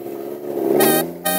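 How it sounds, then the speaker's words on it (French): A Toyota, a Japanese car, with its engine running steadily nearby and rising into a brief rev before settling, with no talk over it. "c'est une Toyota."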